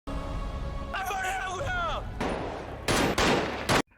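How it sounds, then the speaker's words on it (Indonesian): Pistol emptied of all its bullets in a crime drama film scene, a rapid run of sharp loud shots near the end following other film sounds and voices. "ia menembakkan semua peluru di pistolnya"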